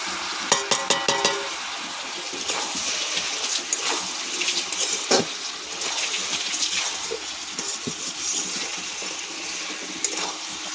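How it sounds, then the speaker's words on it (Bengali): Water pouring into a pot of spinach chicken curry with salt and spices, a continuous splashing gush with a few sharp clinks near the start, loud and close, no voices. "অল্প করে জল দেব।"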